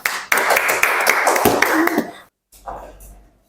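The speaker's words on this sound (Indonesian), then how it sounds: "Oke, kasih tepuk tangan dulu." Students in a classroom clap together in a short burst of loud, close, uneven applause, which stops abruptly and gives way to a quieter shuffle with a few faint sounds.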